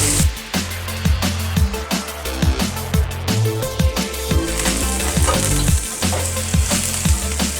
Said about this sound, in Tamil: வெங்காயம் வதங்கிக்கிட்டுருக்கையிலே கருவேப்பிலை எடுத்து வச்சுருக்கிறேன்